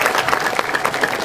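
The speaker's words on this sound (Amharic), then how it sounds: "አሁን አጨብጭቡላት ለዚህች ሕፃን ልጅ" A crowd claps steadily for a little girl at an Orthodox Christian teaching gathering, a dense, continuous patter of many hands at moderate loudness, with no voices over it.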